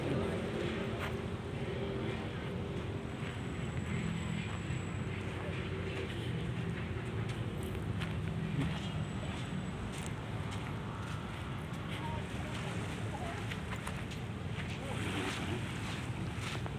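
Boat out on the sea near large rocks, a steady engine rumble mixed with wind buffeting and waves washing, continuous and close, with a voice speaking over it at times.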